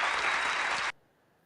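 Dense audience applause at a comedy interview fills the first second at a steady level, then cuts off abruptly into near silence.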